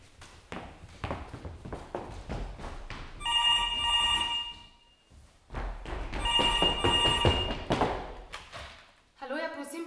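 A telephone bell rings in two long bursts separated by a pause, loud and close, with rustling, footsteps and thuds in a room, and a voice briefly at the end.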